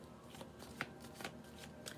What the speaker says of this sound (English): We are shuffling the deck for Virgo.